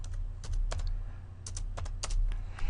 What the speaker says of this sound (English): you can chat with your visitors by simply typing in the text box here